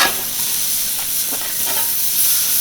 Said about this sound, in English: I'm gonna let them crisp up here.